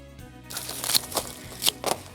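Several short, crisp cuts slice through a handful of leaves as the bottom and top are trimmed off, four quiet snips spaced unevenly over a couple of seconds with no voice.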